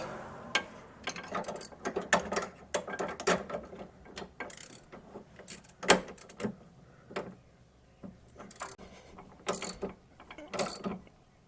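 Ratchet wrench clicking in irregular bursts while tightening the end link on a C5 Corvette suspension, close and fairly quiet, with short clattering runs and pauses between strokes.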